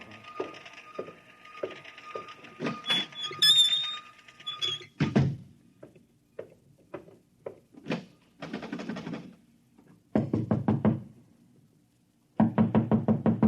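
Someone knocks on a wooden door marked private: several rapid clusters of sharp raps, close and loud, with brief pauses between bursts and the final volleys the heaviest.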